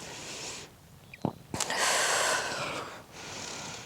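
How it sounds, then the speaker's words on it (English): Breaths drawn in and pushed out during a Pilates butt workout: a short sharp intake, then a longer, rushing exhale, close and fairly loud with no talking over it. "we're inhaling and exhaling under a brace"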